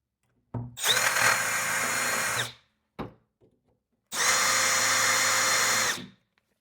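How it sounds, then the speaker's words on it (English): A handheld power drill runs in two near, loud bursts of about two seconds each, with a short blip between them, spot-drilling marks into metal stock in the corners of a Ryobi 48V battery bracket. "take your drill, and you'll want to drill just a little bit."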